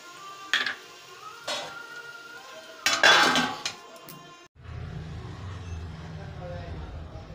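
Matar pulao being stirred in a pot with a spoon, giving a few clattering metal-on-pot scrapes and knocks early on, then a steady low bubbling hiss as the pot sits.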